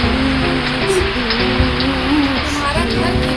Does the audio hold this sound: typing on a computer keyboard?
no